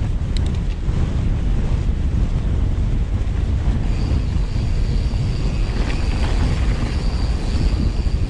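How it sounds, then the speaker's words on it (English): Strong wind buffets the microphone on the trails of Nutcombe Bottom on Exmoor, a loud, continuous roaring rumble with constant gusting and no voices. "Windy!"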